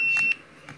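A GoPro Hero camera gives a pair of short electronic beeps close by, each a bright steady tone, with a faint third chirp a moment later and no voices.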